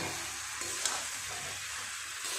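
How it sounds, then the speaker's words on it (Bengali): Cauliflower and potato, already fried, sizzle together with spices in a pan as they are cooked down. A steady close hiss fills the moment without talking. "মশলা, ফুলকপি, আলু সব একসাথে এইভাবে কষিয়ে নেব ভালো করে।"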